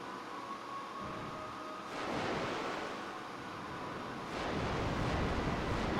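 Ocean waves roll in a seaside scene from the PS1 game Legend of Mana, a steady washing surf with two louder swells rising and falling, with no voices over it.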